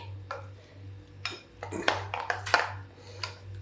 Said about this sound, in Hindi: अब इसको हम थोड़ा सा मिक्स कर लेंगे।